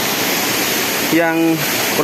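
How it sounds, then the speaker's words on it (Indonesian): A small waterfall roughly 15 meters high at a forest curug pours with a loud, steady broadband rush throughout, while a voice briefly speaks over it near the middle. "yang belum pernah melihat air terjun seperti ini"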